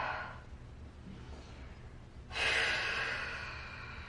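Breathing during a Pilates roll-back exercise: a quiet, soft breath first, then a stronger, airy exhale that swells and slowly fades, close and without talk.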